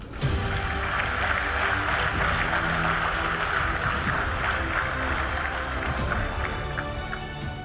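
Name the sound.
loud audience applause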